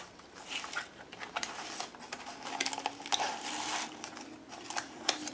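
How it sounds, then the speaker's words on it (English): Aluminium foil crinkles and crackles in a steady run of dry rustles as it is folded and pressed around a book cover, with close, irregular bursts and no talking. "I'm just going to walk around the book and fold that foil in"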